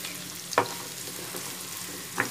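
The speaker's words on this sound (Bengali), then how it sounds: "তা এটা পুরো লাল করব না, ট্রান্সপারেন্ট কালার অবধি এটাকে ভাজতে হবে।" Chopped onions fry in ghee with an even, close sizzle for Mangalorean chicken ghee roast, broken by two brief scrapes of a stirring spoon; no one talks.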